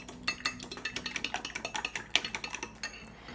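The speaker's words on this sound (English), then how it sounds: "We whisk the eggs together" A whisk beats eggs together in a bowl, producing a quick, steady series of metallic clinks and taps against the bowl's side, close and fairly quiet.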